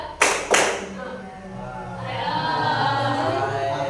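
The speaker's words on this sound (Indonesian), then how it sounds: "tepuk 1, tepuk 2, tepuk 3, tepuk 1, 2" Hand claps in a classroom during a counting clap game, two sharp separate claps near the start followed by a murmur of students and ambient room noise.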